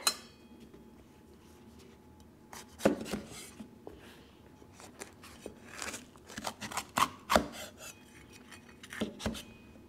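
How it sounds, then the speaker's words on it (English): A knife slices red peppers into thin julienne strips, giving a run of crisp, irregular cuts and taps against a board that grow busier toward the end, close and fairly quiet, with no talking. "So with my red peppers, I'm going to slice them into a thin julienne."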